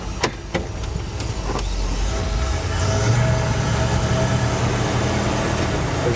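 A 1979 Ford F150 4x4 with a 460 engine and automatic transmission drives along, a steady low engine and road rumble filling the cabin, with a few sharp clicks or knocks near the start and no talk.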